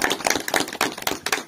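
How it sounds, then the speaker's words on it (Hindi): A few people clapping in welcome at a retirement party, a short burst of close, irregular claps over about a second and a half. "तालियों से स्वागत किया जाए"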